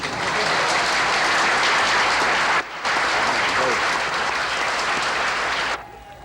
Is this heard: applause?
yes